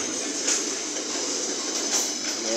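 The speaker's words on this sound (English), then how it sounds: "here comes the end of this freight train" Tail end of a freight train passing at Leicester on the Midland Main Line in cold, heavy rain; a steady, broad rushing rumble of wagons rolls by close to the listener without a break.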